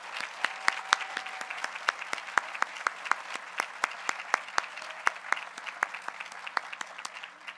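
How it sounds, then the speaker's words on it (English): Applause for a graduating class at a grade 5 moving-up ceremony, with sharp individual claps standing out clearly above a thinner backdrop of clapping from a modest crowd, continuing steadily throughout. "let's give one last round of applause to the class of 2028, the class of gold"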